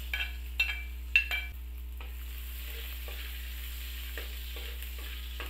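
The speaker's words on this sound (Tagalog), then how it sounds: "Ngayon naman, pwede na tayong mag-gisa. Gisa muna natin ang bawang." Garlic and onion sauté in oil for chicken adobo, a quiet continuous sizzle under a low hum, with a few sharp utensil scrapes and clinks of stirring early on.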